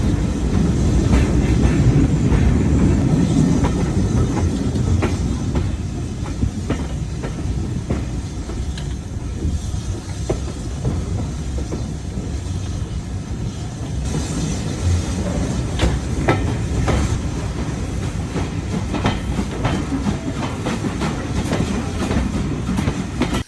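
Steady rumble and clickety-clack of carriages on the Great Central Railway steam line near Leicester North, loud and continuous throughout with no talk.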